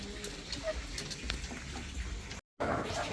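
Disinfectant is sprayed over chickens in a poultry pen, a continuous hissing wash of water with a brief cut near the end.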